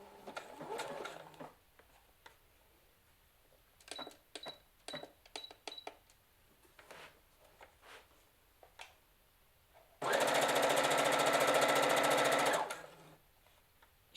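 A Brother FS 40 sewing machine stitches fabric with a wide stitch, first in short bursts of needle clatter, then in a loud, steady, close run of about three seconds before stopping.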